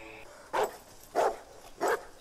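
A dog in the movie Signs barks three times at an even pace, each bark sharp and fairly close, with quiet background between them.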